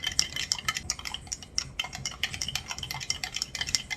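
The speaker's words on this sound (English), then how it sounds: "Maybe that's when you have to stir it till it gets to that." A spoon stirs homemade chamomile lotion in a jar, giving a steady run of quick, close scraping clinks and taps against the glass with no pauses and no voices.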